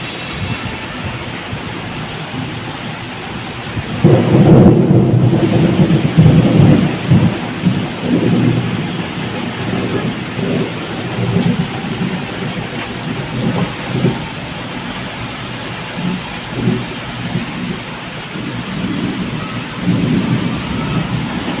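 Heavy rain pours steadily during a thunderstorm at home, with a loud rolling thunder rumble early on and more low rumbles under the constant downpour; no one speaks.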